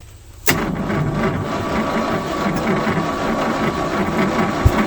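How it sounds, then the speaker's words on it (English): A 1971 Ford F100 with a 360 FE engine cranks over sluggishly after decades abandoned, a starter churning that kicks in abruptly and drones on steadily and close, with a sharp knock near the end. "I don't know if a starter is about shot or what, but it's just barely turning over"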